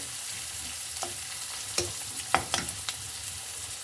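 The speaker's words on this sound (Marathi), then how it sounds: "एक छोटा मिडियम साईजचा कांदा घेतलेला आहे छानसे परतून घ्या तेलावर" A small to medium onion sautés in oil for Udupi-style upma, making a continuous gentle sizzle under a handful of sharp spoon scrapes and taps against the pan, with no one speaking.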